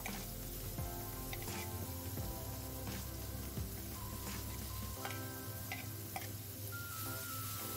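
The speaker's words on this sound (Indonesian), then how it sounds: "Kita tumis bumbu yang udah diulek tadi" Ground spice paste sautéing in oil in a pan, a soft, steady sizzle with light crackles and occasional stirring scrapes, fairly quiet and close with no voices.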